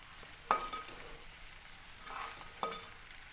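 Drained beef fries in a pan for a Kerala-style beef fry, a faint steady sizzle broken by two clanks of a stirring utensil against the pan, with no talking.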